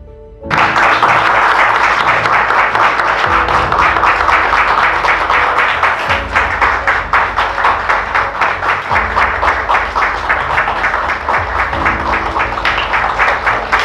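Audience applause at a certificate award ceremony, many hands clapping loudly and evenly with a faint rhythmic pulse, sustained throughout with a low tonal background.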